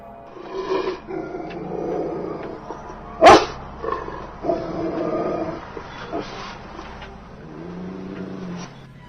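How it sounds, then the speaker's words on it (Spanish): A dog about to attack snarls and barks in short aggressive bursts, with one sharp loud snap in the middle, amid rumbling noise. "se escuchó muy cerca de sus oídos el sonido característico de un perro a punto de atacar"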